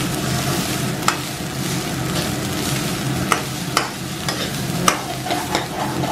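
Garlic fried rice stir-fried in a pan that still holds the oil from earlier frying, a steady sizzle punctuated by sharp scrapes and clacks of the spatula at irregular intervals, close by.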